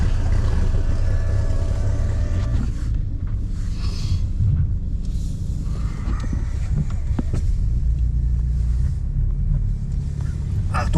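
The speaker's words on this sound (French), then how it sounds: "Entends bien le moteur, hein?" Engine of an Alpine A110 driving, a steady loud rumble with wind buffeting throughout, heard from inside or close by; people talk briefly over it.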